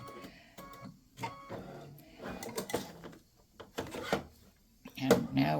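An embroidery machine stitches black thread on free-standing lace bat earrings, giving a fast rhythmic mechanical chatter that rises and falls in bursts, with a voice speaking intermittently over it.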